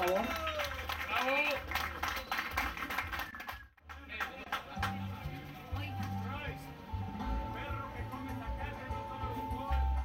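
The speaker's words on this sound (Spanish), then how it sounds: "Un aplauso para él, por favor." Audience at a fair in Martínez de la Torre applauds a rancher during an awards ceremony, clapping mixed with loud music and someone talking over a public address system.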